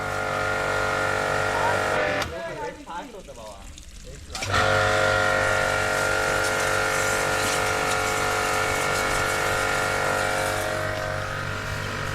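A steady, loud mechanical drone of a pressure washer spraying water runs throughout, briefly dipping and changing texture near the start, with voices talking over it.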